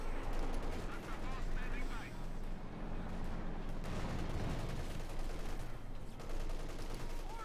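Panzer IV tank shelling and rifle fire in a Company of Heroes 2 battle, with dense overlapping bursts of gunfire and heavy booming impacts rolling on continuously, mixed with a faint voice at times.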